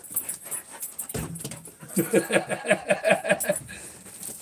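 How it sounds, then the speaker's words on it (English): A dog pants rapidly and rhythmically up close, with a few soft whimpers mixed in, the quick breaths coming in a steady run through the second half. "You're a crazy dog."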